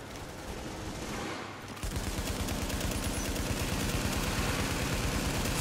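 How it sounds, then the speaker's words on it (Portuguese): A machine gun firing in The Division video game: steady, rapid automatic bursts that grow louder and denser partway through, close and sustained with no talk. "Cê é louco, essa metralhadora é muito forte"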